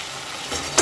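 Mutton being stirred in a pan for a homestyle Bengali curry, a short sizzling scrape of mixing followed by a quick clatter as a lid goes on.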